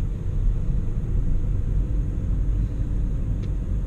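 From inside an automatic car driven in manual mode while upshifting, a steady low engine and road rumble drones on evenly and fairly loud, with no distinct gear change standing out.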